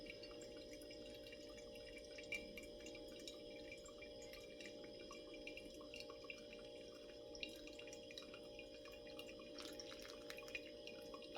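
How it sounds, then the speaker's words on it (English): Hot water poured steadily from a kettle over coffee grounds in a Hario V60 dripper, a soft continuous trickle and splash held at a low, even level throughout. "I'm just going to pour mostly towards the center"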